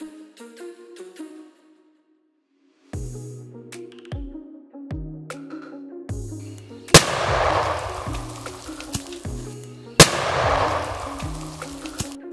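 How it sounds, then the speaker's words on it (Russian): A firecracker wrapped in 250 rubber bands, set on a tree stump, goes off with one sharp, loud, close blast, followed by a second bang and scattered debris noise. "Сила взрыва была достаточно мощной, и 250 резинок не смогли справиться с внушительным взрывом петарды."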